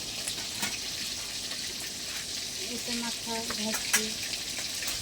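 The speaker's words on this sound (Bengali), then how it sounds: "দেখো দেখো আজকে মেয়েটা মাছ ভাজছে।" Fish fries in a pan with a constant soft sizzle and occasional splashy crackles, while a voice talks over it midway.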